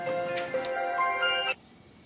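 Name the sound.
mobile phone ringing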